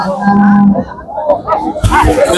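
A Holstein Friesian heifer calf gives a short, low moo up close, followed by a brief stretch of crowd chatter and bustle in the background.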